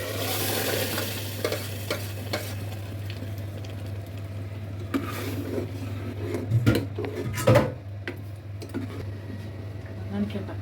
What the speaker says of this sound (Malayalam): എല്ലാം കൂടി എണ്ണയിലേക്ക് വഴറ്റണം